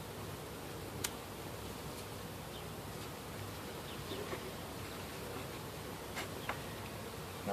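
Honey bees hum softly inside a hive, a faint continuous buzz with occasional light clicks and ticks, no voices.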